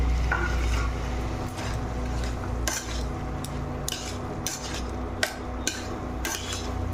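Fried soya chunks tumble into a pan and a utensil stirs them, giving a series of sharp scraping clinks and knocks against the metal over a low, steady background hum.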